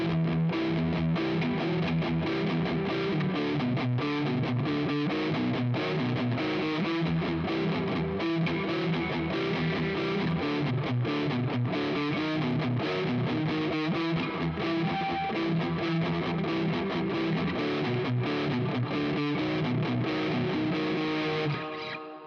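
An electric guitar plays a continuous riff through a heavily distorted amp rig, loud and dense without pause for over twenty seconds.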